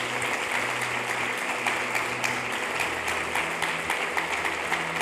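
A church congregation applauds together during a service, a continuous wash of clapping with a low hum beneath it, fairly loud and even, with no speech over it.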